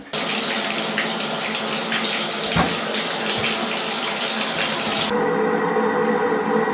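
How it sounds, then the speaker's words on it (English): Steady rushing water pours down a bathtub drain, loud and close, with a brief change in tone near the end; the drain is leaking. "That's the water draining."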